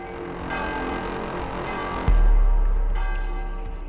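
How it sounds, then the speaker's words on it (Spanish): A single church bell strikes once at dawn, a loud low clang that rings out and slowly decays, following a few seconds of steady droning background. "El alba llegó y de inmediato sonó la única campana que tenía la iglesia."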